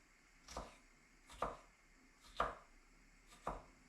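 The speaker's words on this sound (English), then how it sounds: "I'm going to cut some pepper." A knife chops bell pepper into cubes on a cutting board in four distinct strokes spaced about a second apart, close and crisp, with no talking.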